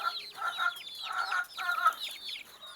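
Free-range village chickens clucking on a farm: repeated bursts of nasal clucks and short calls from several birds, moderately close, with no talk over them.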